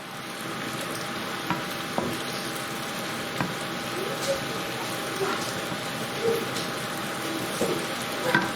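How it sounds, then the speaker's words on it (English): BIR-style chicken rogan josh sizzles steadily in a pan, with soft scraping knocks as it is stirred against the bottom, constant close frying hiss throughout. "Keep cooking, keep stirring so it doesn't stick to the bottom of the pan."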